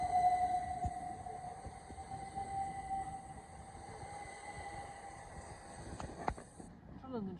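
Class 375 electric train at Tonbridge station, heard as a faint, distant hum with a steady tone and a couple of clicks near the end, the scene otherwise quiet.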